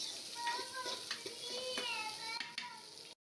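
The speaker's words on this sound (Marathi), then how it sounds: "कांदा आपल्याला गोल्डन ब्राऊन कलर होईपर्यंत आपल्याला भाजून घ्यायचा आहे" Finely chopped onion frying in a pan toward golden brown, a constant sizzle broken by irregular spatula scrapes and taps against the pan, with a faint tonal whine running underneath and no speech.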